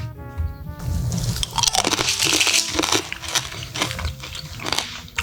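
Loud, close crunching of crispy almond brittle being bitten and chewed, sharp cracking bursts repeating over several seconds.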